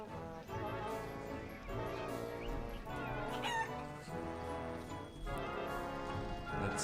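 Clucking chicken in the Wallace & Gromit's Grand Adventures video game, a few short squawks mixed into dense, continuous game music with sound effects running throughout.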